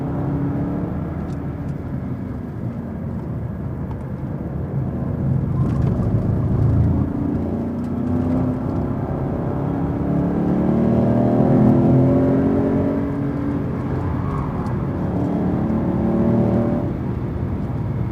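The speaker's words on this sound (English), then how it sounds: "on and off the throttle here a little bit, loading the front end to help it to turn" Mercedes-AMG car engine revving on and off the throttle during a lap of the Circuit of the Americas track, a steady close rumble with rising and falling pitch as the driver lifts and reapplies power, no talk.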